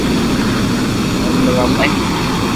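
Aircraft engines in a flight simulator airshow drone steadily as the planes line up on the runway, a continuous broadband roar with someone talking over it.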